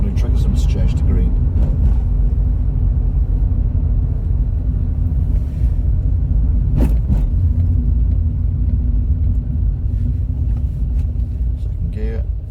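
Car driving on a UK road in 2020, changing gears, with a loud, steady engine and road rumble throughout and a few sharp clicks and knocks from inside the cabin.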